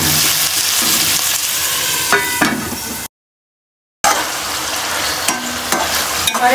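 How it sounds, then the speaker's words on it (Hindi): Minced meat keema fries in a pan for keema aloo gobhi, giving a loud, dense sizzle with stirring scrapes, a brief dead-silent gap midway, then the frying continues. "अब हम इसके अंदर अपना कीमा भी ऐड करके थोड़ी देर के लिए इसको फ्राई करेंगे"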